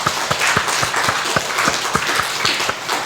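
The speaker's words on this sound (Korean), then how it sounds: "우리 서로에게 힘찬 감사와 격려와 위로의 박수" A church congregation claps together during a Sunday year-end Christmas thanksgiving service, giving a steady, dense round of applause that fills the space for a few seconds without talk.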